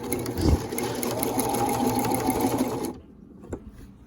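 A sewing machine runs steadily while stitching a Regency corset with red thread, a close continuous mechanical whir that cuts off near the end, leaving a brief quiet tap.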